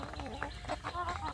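Free-range Indonesian village chickens (ayam kampung) cluck steadily in their open coop, several birds close by with overlapping, rising and falling calls and no talking.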